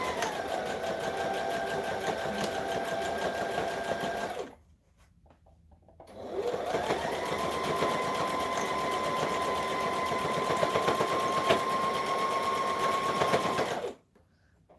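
An overlocker serging a blouse, close and loud: a fast, steady motor whir with rapid stitching, running about four seconds, pausing briefly, then running again for roughly seven more seconds before stopping.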